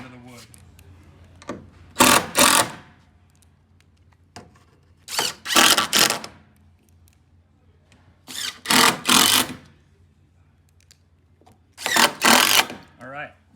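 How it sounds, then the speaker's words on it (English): A power driver drives screws through a hinge into a steel ramp structure in four separate bursts of a few seconds each, loud and close, with quiet pauses between them. "we want this hinge to be screwed into the steel structure"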